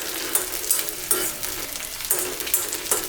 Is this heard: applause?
no